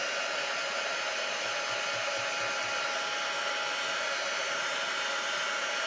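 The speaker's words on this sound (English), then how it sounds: "just keep moving the heat gun around." A heat gun blows steadily onto shrink plastic on a Teflon sheet, making a continuous loud fan-and-air roar with no breaks or talk.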